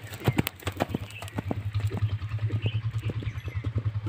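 A 21-month-old horse's hooves clip-clop in a steady trotting rhythm around a ring, crisp repeated strikes over a low constant hum.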